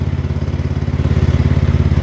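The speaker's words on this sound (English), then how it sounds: "I figured I would give you a little ride on my tractor there" A close XT1 Enduro series garden tractor engine putters loudly during a ride, a rapid, regular chugging pulse with mechanical clatter, steady and unbroken throughout.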